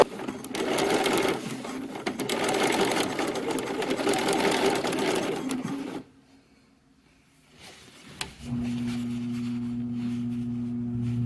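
A sewing machine stitches satin fabric in a sustained rapid whir for several seconds, then falls quiet before a steady motor hum resumes, close and clear with no speech.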